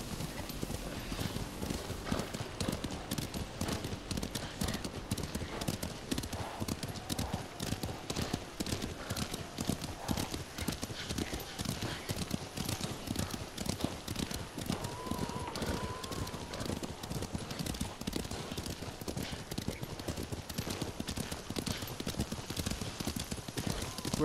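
Horses trot in the video game Ghost of Tsushima, hooves clip-clopping in a fast, steady and continuous rhythm at close range, with a brief whinny partway through and occasional faint voices beneath.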